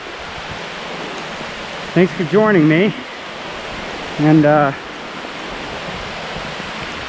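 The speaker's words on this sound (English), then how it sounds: "it's pouring." Pouring rain from a storm at an old mill site, a steady broadband hiss that fills the whole stretch while a voice talks briefly over it.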